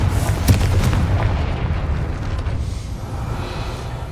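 A Confringo fire spell from Hogwarts Legacy bursts with a loud, sharp blast near the start, then a crackling roar that slowly fades under steady low rumble.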